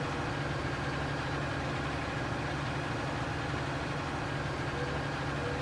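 A tractor engine in Farm Sim 19 drones steadily while plowing a field, a constant mid-low hum with vibration and no pauses or talk.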